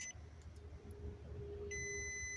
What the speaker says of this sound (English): Hear that beep?